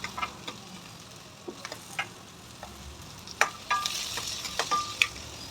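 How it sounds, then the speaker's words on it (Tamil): Onion, green chilli, garlic and a little tamarind sauté in a pan, a quiet sizzle under scattered spatula scrapes and taps that grow busier and louder toward the end, with no talking. "வெங்காயம் பச்சை மிளகாய் பூண்டு புளி கொஞ்சம் எல்லாத்தையும் போட்டு நல்லா வதக்கணும்"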